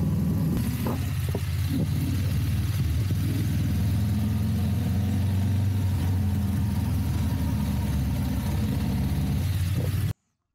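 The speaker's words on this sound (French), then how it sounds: "ou entendre plutôt le son de la Krapovic" BMW F 900 GS motorcycle, an 895 cc twin-cylinder with an Akrapovic exhaust, idling with a deep, steady rumble close up, holding even for about ten seconds before cutting off abruptly.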